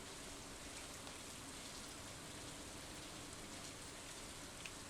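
Steady rain falls in the Stardew Valley video game on a summer's day, a dense, even hiss that holds unchanged throughout with no voices.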